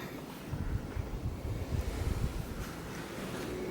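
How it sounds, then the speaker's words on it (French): Strong wind buffets the microphone in rumbling, uneven gusts at an abandoned sanatorium, a loud low roar with no voices heard. "Et on entend beaucoup le vent."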